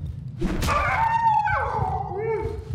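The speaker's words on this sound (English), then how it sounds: "It's just a dog." A dog in the horror video game Darkwood gives a sharp bark, then a series of drawn-out, falling whines and howls, close and fairly loud.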